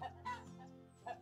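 A chicken in a chicken craft video game clucks three times in short, throaty bursts with brief gaps between them, close and moderately loud, with no talk.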